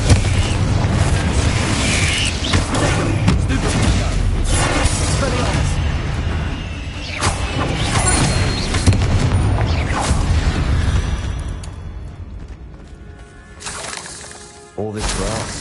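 A booming Bombarda spell explosion erupts in Hogwarts Legacy, a heavy blast followed by rumbling debris and crackling game effects, with a voice speaking over the loud din.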